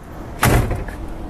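A car door on a 1965 Chevy Chevelle convertible swinging shut with a single solid thunk, close and loud, followed by a brief soft rattle.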